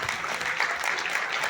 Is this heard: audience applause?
yes